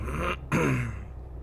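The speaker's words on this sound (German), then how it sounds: "Ich muss mich da immer ein bisschen räuspern." A man clears his throat twice in quick succession, a short rough rasp followed by a louder, throaty grunt-like clearing, close to the microphone with no other talk.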